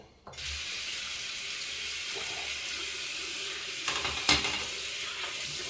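Tap water running steadily into a sink while washing the face after a shave, a continuous hissing flow with a few splashy bumps near the end and no talk.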